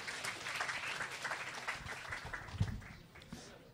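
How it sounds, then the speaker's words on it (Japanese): An audience at a security talk night applauds a presenter being introduced, a fairly quiet, dense patter of many hands that rises and falls for several seconds before thinning out. "皆さん拍手をお願いいたします"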